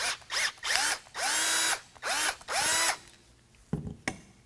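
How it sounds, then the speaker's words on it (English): A power drill with a 1/4 inch bit widens a hole in a pin while a lift kit goes onto a 2022 Ford Maverick. Four close, whining bursts start and stop in quick succession, then a few quiet knocks. "We're going to take a drill with a 1/4 inch drill bit,"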